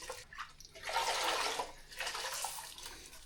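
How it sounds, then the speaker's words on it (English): Water is squeezed from a sponge, a soft wet rush and trickle that swells and fades in two short pulses, fairly close and quiet. "squeeze most of the water out of it"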